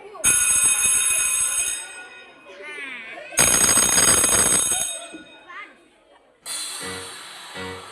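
A school bell at an elementary school, ringing loudly in three long electric bursts with short gaps between them, close by, with voices in the gaps.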